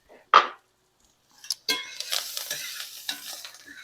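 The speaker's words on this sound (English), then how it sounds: "Toss those around and plate them up." Breakfast potatoes with cilantro and green onion tossed in a frying pan: one sharp clack, a short pause, then continuous close scraping and stirring over a soft sizzle.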